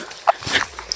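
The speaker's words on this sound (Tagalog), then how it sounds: "May mga aso." Dogs barking outdoors, a couple of short, fairly faint barks in quick succession with some rustle around them.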